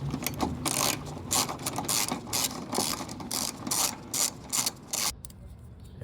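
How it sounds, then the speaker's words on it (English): A ratchet clicks in quick rapid bursts while backing out a 10mm bolt on a 2023 Toyota Sienna, close and fairly loud, stopping abruptly near the end. "so remove the 10mm bolt from here"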